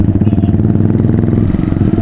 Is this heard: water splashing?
no